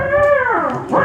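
A dog howls in a Hindi devotional drama, one long wavering howl that bends downward and then rises again at the end, loud and close with no talk over it.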